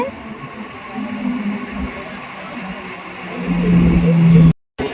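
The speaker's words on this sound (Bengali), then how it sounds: "বিধাননগর থেকে ট্রেনটি ছেড়ে দিয়েছে, পরবর্তী স্টেশন দমদম জংশন" A local train on the Sealdah–Krishnanagar line pulls out of Bidhannagar station toward Dum Dum Junction, a loud rolling rumble that swells over several seconds with a sustained tonal whine before cutting off abruptly.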